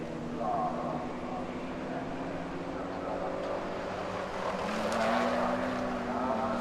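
Porsche race cars roar around the Zolder circuit in Belgium during a BRSCC Porsche Championship race, a steady engine drone from a distance with a rising pitch near the end, while a commentator talks over it.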